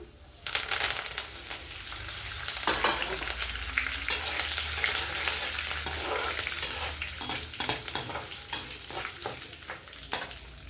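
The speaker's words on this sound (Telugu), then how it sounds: "ఎండుమిర్చి బాగా వేగిన తర్వాత కరివేపాకు కూడా వేసేసుకుందాం." Mustard seeds, dried red chilies and curry leaves fry in hot oil for a bitter gourd dish, with a loud continuous sizzle full of sharp crackles and pops and occasional stirring scrapes.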